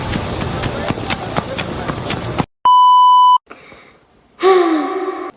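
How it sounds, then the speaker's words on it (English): A phone message notification sounds as one sharp, loud, steady electronic beep lasting under a second. It follows busy clip-clopping hoofbeats and comes before a gasp-like voice. "My phone beeped"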